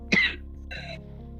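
A single short cough followed by a softer throat-clearing sound, faint and close, over a low steady background hum during a Valorant watch party stream.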